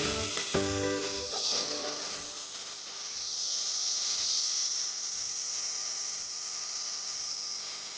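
Turkey berries dropped into a pan of softened onions, steady soft sizzling and hiss of sautéing throughout, with a brief clatter near the start and the frying growing slightly brighter midway.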